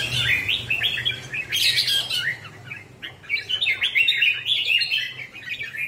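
Red-whiskered bulbul kept as a free-roaming pet in Hóc Môn singing close by, a loud run of bright, rapid warbling phrases and chirps with short pauses between bursts, with no voices over it.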